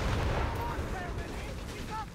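Gunfire and explosions rumble from a Company of Heroes 3 team battle, dense, booming and continuous with crackling shots, mixed under indistinct voices.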